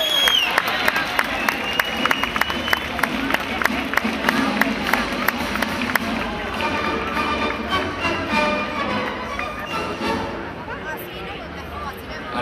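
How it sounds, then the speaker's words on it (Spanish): Festive crowd at the 2014 Serranilla de Mágina celebration in Huelma claps to welcome Almudena Cózar, representative of Torres; sustained, dense applause with sharp individual claps over crowd murmur and some talking. "recibimos con un fuerte aplauso a Almudena Cózar, representante de Torres."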